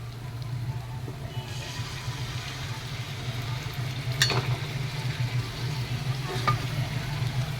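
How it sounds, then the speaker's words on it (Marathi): Mutton broth poured little by little into masala sizzling in a pan, giving a steady, loud frying hiss with stirring and a few sharp splashes as liquid hits the hot oil. "हे जे सूप आहे ना मटणाचं थोडं थोडं हे आपण या मसाल्यामध्ये टाकणार आहोत"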